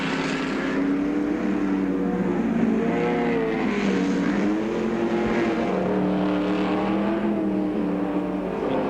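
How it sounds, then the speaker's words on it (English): 1969 improved touring race cars, including a Ford Mustang and a Lotus Ford Cortina, race at Warwick Farm. Several engines rise and fall in pitch together as they rev hard past, loud and continuous, with no talk. "Car number 1, the Ford Mustang, driven by Leo Gagan, in second place"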